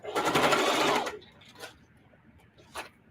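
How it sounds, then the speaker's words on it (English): A sewing machine runs in a short, fast burst for about a second while stitching fabric strips for scrappy string piecing, then stops; a couple of faint clicks and handling noises follow in the quiet. "I'm just gonna sew over to there and leave it an opening"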